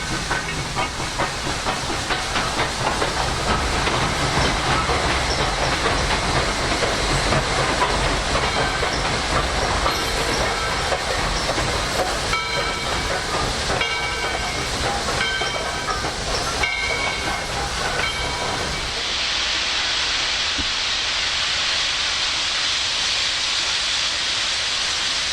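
Steam locomotive working along the Tennessee Valley railroad, a loud steady chuffing hiss with clickety-clack of the cars, easing off into softer rumble near the end.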